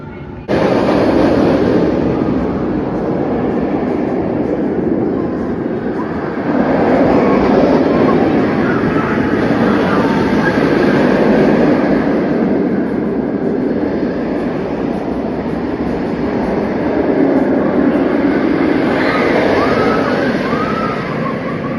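A roller coaster runs at Carowinds amusement park, a continuous rumbling roar of wheels on track that swells and fades in waves over about twenty seconds, heard from a moderate distance with faint crowd noise.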